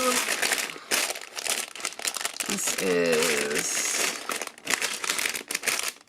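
Plastic bags of Lego-compatible pieces for a crystal Christmas tree music box crinkle and rustle up close, with bursts of handling between and under a person talking.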